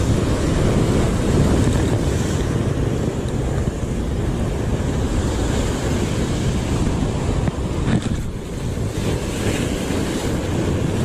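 Big ocean waves and strong wind at sea roar steadily around a small fishing boat, with heavy, constant wind buffeting on the microphone and rushing water throughout.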